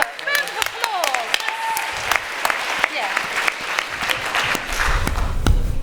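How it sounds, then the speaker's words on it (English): Audience applause at a vegan festival event, a dense wash of clapping lasting the whole stretch, with scattered voices and cheers mixed in and a slight swell toward the end. "Look, round of applause."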